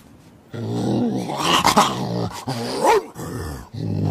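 A dog in a rural farm setting growls low and steadily, close and loud, in several sustained stretches with brief pauses and no speech.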